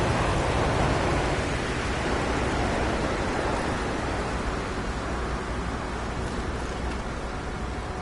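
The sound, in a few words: pouring rain in the video game No Man's Sky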